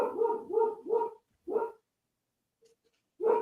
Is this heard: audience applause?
no